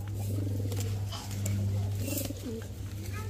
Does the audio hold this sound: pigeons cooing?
yes